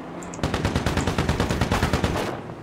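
Rapid automatic gunfire in a video game, a loud, close burst of evenly spaced shots lasting about two seconds after a short quiet lead-in, with no talk over it.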